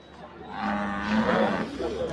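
Cattle at the Erragadda buffalo market in Hyderabad give a single drawn-out moo, close and moderately loud over faint background noise.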